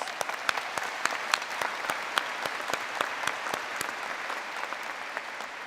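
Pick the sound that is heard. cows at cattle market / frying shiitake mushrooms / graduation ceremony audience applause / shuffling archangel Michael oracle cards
graduation ceremony audience applause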